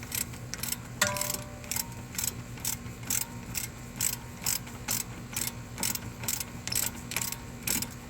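Ratcheting wrench clicking in a steady repeated rhythm while loosening a stubborn, rusted or Loctite-coated CV axle nut on a Chevy Cruze, close and fairly loud with mechanical ticks and no talk.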